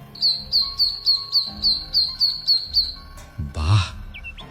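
Young ducklings cheep in a quick, regular series of high, thin chirps near at hand, followed by a louder rustling burst.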